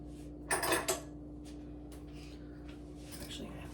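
Utensils clink and clatter as someone rummages for a spoon, a dense jangle early on followed by sparser scrapes and taps, close and soft.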